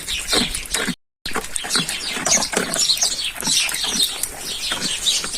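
Sparrows chirp busily and close by, many overlapping bright tweets going on without pause. The sound is cut by one very short silent gap.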